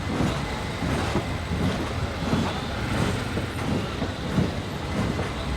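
A train rumbles overhead across a railway bridge in Sri Lanka, a loud, continuous rolling roar with rhythmic clatter of wheels over the track, heard from close below.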